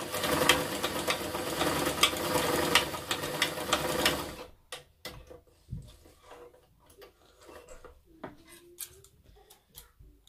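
A sewing machine stitches several seams on a reusable fabric face mask, running in a fast steady whir for about four seconds and then stopping, followed by scattered faint clicks and handling noises.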